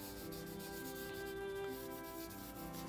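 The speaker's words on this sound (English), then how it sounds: "where I wanted to do a bit of smudging." Charcoal smudged and rubbed across sketching paper makes a soft, continuous scratchy rubbing, faint and close, with no voices.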